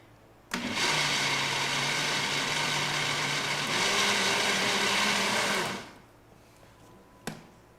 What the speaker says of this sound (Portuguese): eu sempre misturo aqui antes, bato, para depois colocar na panela e ele ficar super brilhoso e lisinho